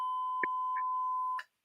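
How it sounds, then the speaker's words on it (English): One sustained electronic beep from a radio show's beep button, a pure steady tone lasting well over a second before cutting off, with a few faint brief sounds behind it. "I heard that beeping sound."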